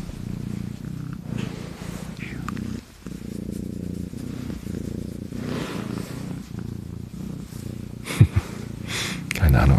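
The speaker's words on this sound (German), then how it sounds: "Vielleicht hört man sie dann schnurren." A domestic cat purrs steadily and loudly right up against a microphone in an office, a continuous close rumble with a few sniffs and snorts near the end.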